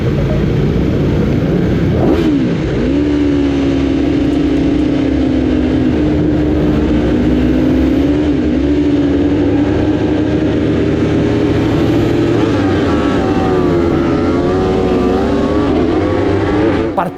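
Racing motorcycles launch from the grid at an IDM race at Hockenheim, one loud nearby engine screaming up through the gears in a sustained, rising and falling roar that persists throughout.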